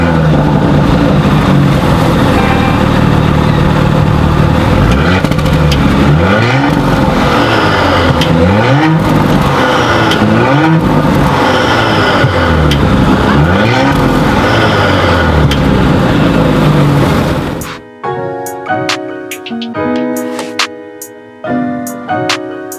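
A 2019 Porsche Cayenne S engine heard from outside as it drives off, a loud revving roar with rising and falling pitch sweeps for most of the stretch, then quieter separate engine blips near the end.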